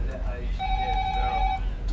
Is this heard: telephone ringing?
yes